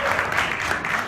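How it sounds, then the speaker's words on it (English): An audience at a Volkswagen-hosted Maxim event in India breaks into a short, dense burst of applause, many hands clapping together at fairly even loudness. "Can we have a louder round of applause"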